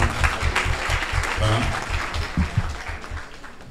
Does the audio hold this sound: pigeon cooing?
no